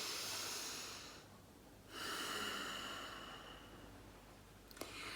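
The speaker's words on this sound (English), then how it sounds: "breathing into the belly." Slow, deep belly breaths in a pranayama stress-release practice, close and audible: a long airy breath, a brief pause, then another drawn-out breath with a soft click near the end.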